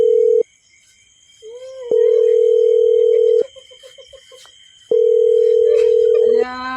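A telephone ringback tone plays loud and close in long steady beeps, about a second and a half each, separated by quiet gaps with some faint background noise and a short burst of clicks near the end.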